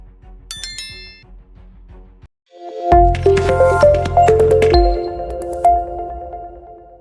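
Subscribe bell notification sound effect: a quick series of bright dings and clicks, then after a short gap a louder chiming, sparkling jingle that rings on and fades.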